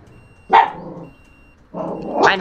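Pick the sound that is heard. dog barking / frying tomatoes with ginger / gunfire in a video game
dog barking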